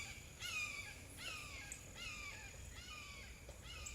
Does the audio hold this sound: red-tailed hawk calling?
yes